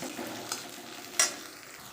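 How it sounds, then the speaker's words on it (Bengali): Onion fries in oil in a wok with cumin, green chilli, dried red chilli and bay leaf, giving a low steady sizzle with a sharp scrape or clink near the middle. "এখন পেঁয়াজ দিয়ে এটা একটু লাল করে ভেজে নেব"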